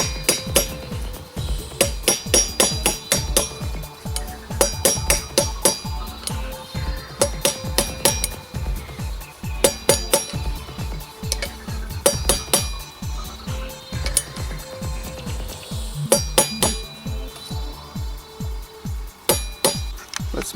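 Metal-on-metal hammering as an old bearing drives a front wheel bearing into place on an RF 900: quick bursts of sharp ringing taps, pausing and resuming again and again, close and fairly loud.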